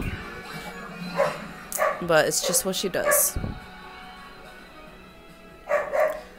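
A pet dog barks at home during a live Pokémon UNITE gaming session: a cluster of sharp barks and yips in the middle, with a further bark near the end, sitting under a person talking.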